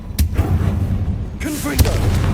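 A Confringo fire spell explodes in Hogwarts Legacy, giving loud booming blasts against a steady rumbling game soundtrack, with a second strong hit near the end.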